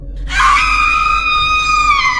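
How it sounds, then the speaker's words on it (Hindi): A shrill, eerie ghostly scream from a woman's spirit in a horror audio drama, one sustained wailing cry that starts abruptly and holds loud and steady for about two seconds, with no speech over it. "अचानक कालिंदी की एक भयानक रूहानी चीख गूंजती है"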